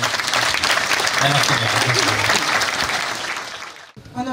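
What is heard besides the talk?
audience applause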